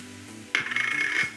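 Ground beef with minced garlic and spices dropped into a hot non-stick pot, a sudden loud sizzle starting partway through and holding steady, close by, over a low kitchen hum.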